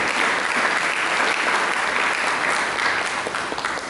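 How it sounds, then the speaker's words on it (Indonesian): Applause from a church congregation fills the hall at a Sunday service, dense steady clapping from many hands, fairly loud and sustained throughout, easing slightly at the end, with no talk over it. "Mari kita berikan tepuk tangan bagi dia."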